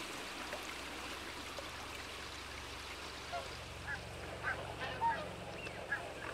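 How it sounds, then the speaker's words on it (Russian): Flocks of whooper swans and other waterbirds arriving in the Volga delta in late October give scattered distant honks and calls over a steady watery wash, with a few brief sharper cries toward the end. "Во второй половине октября появляются первые стаи лебедей-кликунов."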